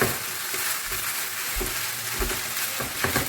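Minced meat pie filling is stirred in a frying pan, a steady close sizzle with scraping and clinking spoon strokes at uneven intervals and no talk.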